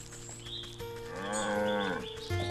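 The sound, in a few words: cow mooing in the video game Wytchwood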